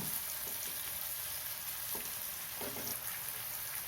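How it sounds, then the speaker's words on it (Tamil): Slit green chillies sauté in a pan for a village-style vanjiram fish curry with a continuous, quiet sizzle and a few light stirring clicks, close and steady with no talking. "மூணு பச்சை மிளகா கீறி வச்சுருக்கேன் அதையும் சேர்த்துக்கிறேன் வதங்கட்டும்"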